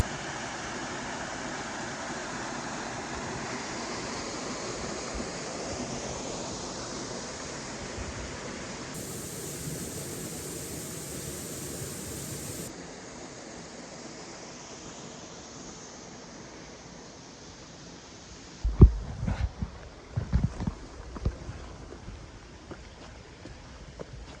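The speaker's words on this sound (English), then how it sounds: "You can hear the river again on the left there." Steady rushing water of a river flows continuously nearby, in light rain in an alluvial forest in Marlborough, New Zealand, with some brief knocks and rustling near the end.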